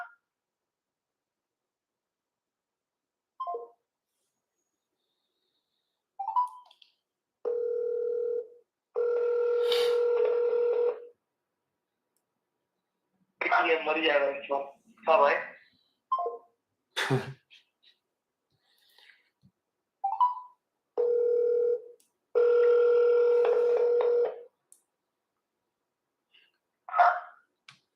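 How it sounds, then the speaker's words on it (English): Phone call placed from a computer or handset, with short dialing tones, sustained ringback beeps in two bursts, and electronic chirps between, while a person speaks briefly between the tones. "Okay, we're gonna call one more time."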